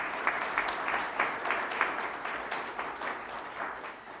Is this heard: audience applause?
yes